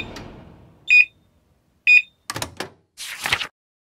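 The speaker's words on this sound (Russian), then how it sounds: "Микроволновка пикает." A microwave oven gives two short, bright beeps about a second apart, followed by a few knocking clunks like its door being handled.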